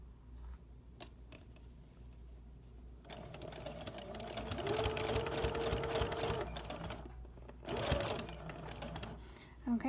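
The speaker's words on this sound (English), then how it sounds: "So I'm going to sew the bias tape so that it goes" A sewing machine stitches bias tape onto a quilted leaf potholder, with a whirring motor run and fast needle chatter that rises and then stops. A second short burst follows, with a voice speaking quietly in the background.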